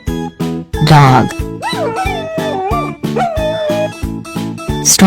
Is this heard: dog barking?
yes